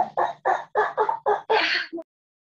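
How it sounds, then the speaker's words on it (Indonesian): A chicken clucks nearby in a quick run of seven short, loud clucks, ending with one longer squawk and a small final note, then silence. "itu siapa punya ayam?"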